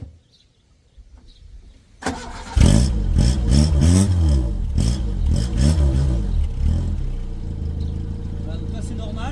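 A Renault 11 GTL converted to turbo cranks and catches, then revs repeatedly in rising and falling sweeps before settling to a steady idle, loud and close.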